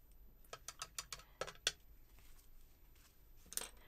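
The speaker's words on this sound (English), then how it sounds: "We're going to pull the tape off." Adhesive tape peeled off a painted holiday deer card in a quick series of sharp, crackling rips, about eight short bursts in the first two seconds, then a final tug near the end.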